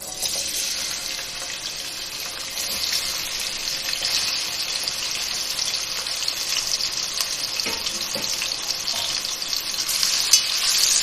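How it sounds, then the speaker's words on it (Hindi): Chopped onions sizzle steadily in half a cup of hot oil, a close, continuous hiss with light crackle that grows slightly busier toward the end. "ये हाफ़ कप मैंने ऑयल लिया है और ये गरम हो गया है। अब मैं इसमें ये प्याज डालूंगी।"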